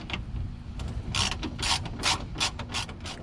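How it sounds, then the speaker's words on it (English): Ratchet wrench removing headlight bolts on a third-generation Toyota Tacoma, a quick series of sharp close clicks in short uneven bursts over a low background hum. "we're gonna go ahead and take those bolts out and try to get this snaked in"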